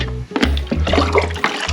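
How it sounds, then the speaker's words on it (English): Cold water scooped with a cup from a bucket for a bucket shower, a close splashing and trickling pour with a couple of distinct dips, no talking. "using a cup you will dip into the bucket"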